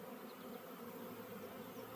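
Honeybees buzz around an open hive in a steady, faint, continuous drone, many wings humming together at close range with no voices over it.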